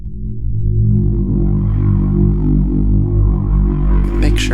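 A Waldorf Quantum MkII synthesizer plays a loud sustained low drone that swells in and holds with slow wavering harmonics, with a brief bright noisy burst at the very end.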